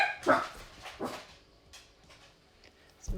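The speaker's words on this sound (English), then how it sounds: "It's my dogs again." Dogs barking indoors, a few sharp barks near the start followed by scattered quieter yips and whimpers, then another bark at the end, with a voice speaking faintly in between.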